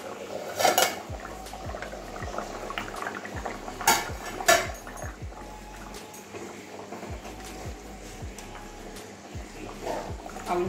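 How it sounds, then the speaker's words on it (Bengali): A pot of half-boiled potatoes and vegetables for a Bengali curry, with a metal lid clanking and scraping as it is lifted, then soft bubbling and occasional utensil knocks nearby. "এবারে ঢাকনাটা খুলছি"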